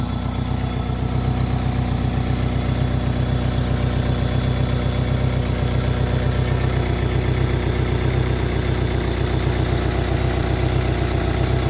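A 2005 Daewoo Lanos SE T150 engine idles close by in a steady, even rumble with a fine rhythmic ticking, running alone without talk.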